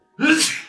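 One short, sharp sneeze bursts out near the microphone, loud and abrupt, trailing off quickly.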